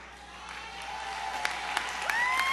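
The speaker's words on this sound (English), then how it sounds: "give her a round of applause" Steady applause from a convention audience at a Nevis Reformation Party rally honouring a minister, a broad wash of clapping that builds slightly with a few sharper claps near the end.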